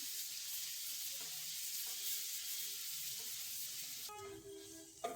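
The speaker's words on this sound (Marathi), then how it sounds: "आता कांदा टाकून देऊ. कांदी लागेल. परतून घ्यायचं ना." Chopped onion sautéing in a hot pan for a garlic and fenugreek dish gives a steady, close, bright sizzle with occasional stirring; a short tonal whine and a clack come near the end.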